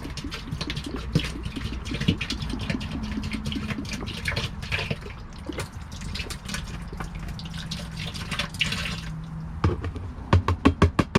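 Vinegar and peroxide are poured into a boat livewell for cleaning, producing a continuous close trickling stream, followed by a quick run of sharp dripping taps at the end.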